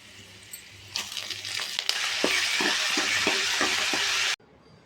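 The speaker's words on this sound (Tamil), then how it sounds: "பிரண்டை வறுத்த எண்ணெயிலேயே நம்ம இதையும் சேர்த்து வறுத்துக்கலாம்." Curry leaves and tamarind fry in hot oil with a loud, steady sizzle that rises suddenly after a few soft clatters and crackles, then cuts off abruptly near the end.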